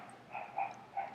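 Puppy gives three quick, faint yips in a short burst, fairly quiet and close, with no talking over it.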